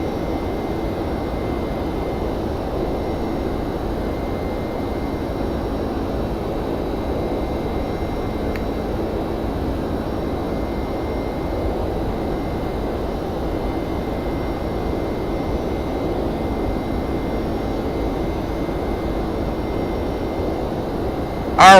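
Boeing 767-300 jet engines in X-Plane 11, a steady unbroken roar with a faint high whine running under it for the full length, with no voices.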